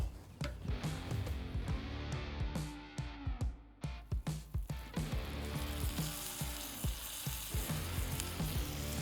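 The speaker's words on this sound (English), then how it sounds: "we want to start to heat up our ironclad pan with some garlic butter and some rosemary" Lamb rump sears in a hot ironclad pan with garlic butter and rosemary, a continuous close sizzle broken by sharp spatters and scraping clicks as the meat is moved.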